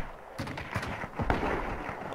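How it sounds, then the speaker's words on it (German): Distant gunshots in the video game Hunt: Showdown, several booming cracks and rumbling reports scattered across a forest setting, mid-distance and fairly loud, with no speech over them. "Oh ja, da schlagen die Schüsse ein. Die schießen auf irgendwas."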